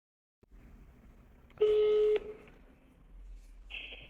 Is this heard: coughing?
no